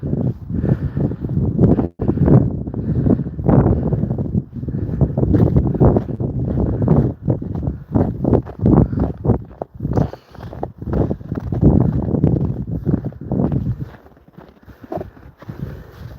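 Strong outdoor wind buffets the microphone in long, loud roaring gusts that barely let up, dropping only slightly near the end.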